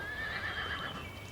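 A horse neighs close by with a short whinny, hooves clip-clopping beneath it, in a brief clear burst without talk.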